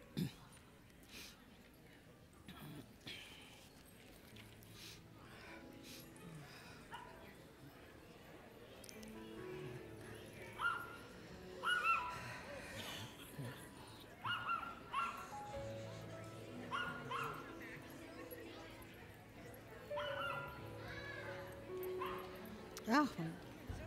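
Several dogs bark, yip and whimper at a pet blessing, the sounds scattered and mostly faint to moderate over a long stretch, with people talking quietly throughout.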